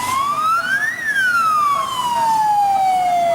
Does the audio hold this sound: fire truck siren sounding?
yes